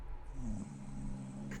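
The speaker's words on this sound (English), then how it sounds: "He's snoring." A man snores with a low, rumbling, throaty drone that rises and falls over a second or so. It is faint and close, with no talk.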